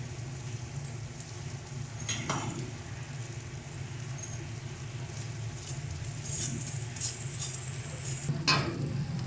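Paneer curry sautés quietly in a pan with a soft, steady sizzle and a few scraping stirs from a utensil.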